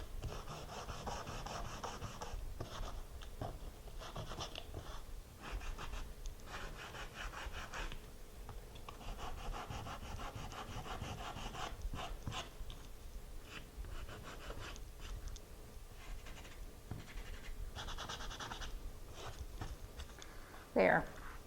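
A small piece of sandpaper rubs by hand over a fall home decor craft piece in soft, faint scratchy strokes that repeat in short bursts with pauses.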